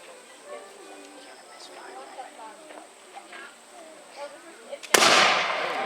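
Historical cannon fired at a War of 1812 reenactment weekend at Backus-Page House, a single loud boom near the end after several seconds of faint outdoor chatter and rustling.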